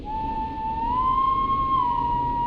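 A single sustained whistle from the video game Killer Frequency holds one steady, clear tone that bends slightly in pitch midway and then settles, heard alone with no talk over it.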